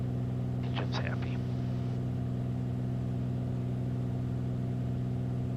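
Aircraft engine drones steadily through the cockpit on approach through clouds to Boeing Field, a constant layered hum with a brief voice near the start.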